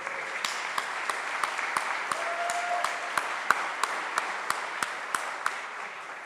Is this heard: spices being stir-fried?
no